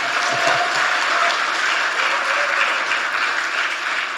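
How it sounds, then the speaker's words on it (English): Large audience applauding at a social business youth summit gathering attendees from 21 countries, loud, dense and sustained clapping that fills the whole stretch without letting up. "Let's give a big applause for all of them."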